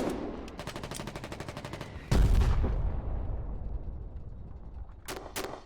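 Artillery fire in the Foxhole war game, a sharp heavy blast landing near and loud amid ongoing rattling gunfire, with a long rumbling tail and two brief cracks at the end.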